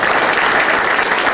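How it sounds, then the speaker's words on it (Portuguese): Church congregation clapping for Sister Rita in a temple service, a brief burst of full, dense applause from many hands, loud and continuous throughout. "passava de palmas para ela"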